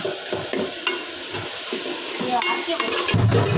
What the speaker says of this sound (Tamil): மீன் குழம்பு நல்லா வதக்கிக்கலாம்.